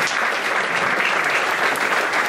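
Church congregation applauding, a steady dense wash of clapping at full loudness throughout the short stretch.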